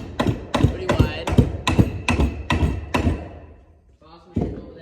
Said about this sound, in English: Boss man over there hammering away.